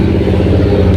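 Loud, steady low rumble of a vehicle engine idling through an aftermarket muffler and exhaust, close to the microphone with a pulsing throb and no talk.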